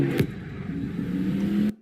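A video game car engine rumbles and revs steadily as the car pulls away, holding a loud, even drone for nearly two seconds before cutting off abruptly.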